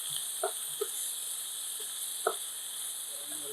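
Ingredients for a pangas fish dish fry in a pan with a steady, bright sizzling hiss. Occasional soft clicks and pops stand out as the sizzle continues quietly on its own.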